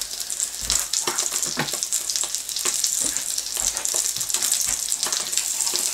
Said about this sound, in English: then I'll let it cook for a bit to let that skin crisp up